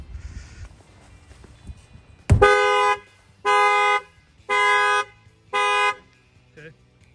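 A factory-fitted car alarm sets off the horn after a door is opened, four loud, evenly spaced honks close by, each about half a second long, following a sharp thud.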